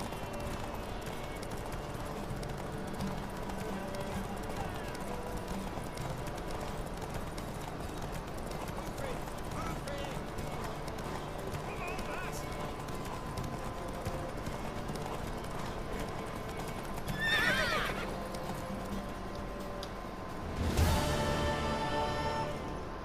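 Horse hooves clip-clop in a steady galloping rhythm throughout in The Witcher 3, with a horse neighing briefly near the end, heard close and fairly loud beneath a person talking.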